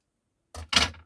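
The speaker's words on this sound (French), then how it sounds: "Ça, je vais couper." Scissors cutting, two quick close snips in succession, the second louder, after a moment of silence.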